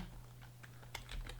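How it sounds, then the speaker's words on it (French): Fingers tap a computer keyboard in quick, irregular keystrokes. The typing is faint and close, over a low steady hum, with no talking. "clavier"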